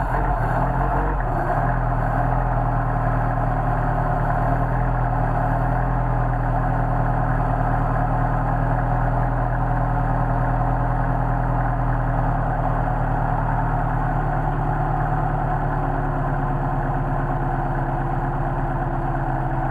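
A Mercedes 190SL engine idles steadily on cold Solex carburetors, a loud, continuous low rumble with an even, slightly uneven-pulsing beat and no talking.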